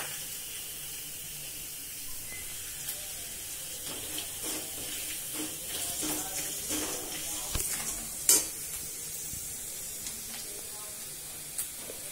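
Quiet, steady sizzling of curry leaves and garlic frying in hot oil with peanuts, with occasional stirring scrapes and small crackles.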